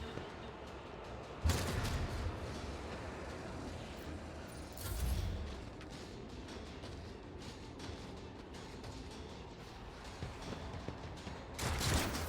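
Gunfire aimed at a demon in the video game Rogue Trader: a few booming shots and bursts over a dense, low, continuous battle rumble. No voices.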